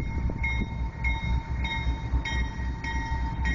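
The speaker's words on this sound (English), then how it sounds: "This is a Norfolk Southern train and it's moving pretty slow." A slow Norfolk Southern freight train with three locomotives rumbles past nearby, with low grinding rumble and regular rhythmic clanks from the wheels at an unhurried pace.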